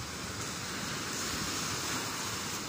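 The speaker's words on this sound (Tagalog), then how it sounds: "Ayan, ang ganda ng dagat ngayon, kalmada" Calm sea waves wash gently onto a shore on a rainy afternoon, a soft continuous surf hiss with some wind noise and no talking.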